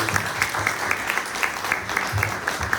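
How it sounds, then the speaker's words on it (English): A small audience at a Dubai meetup gives brief, fairly sparse applause, individual claps distinct in an uneven rhythm, with faint voices underneath. "So a round of applause for that, honestly."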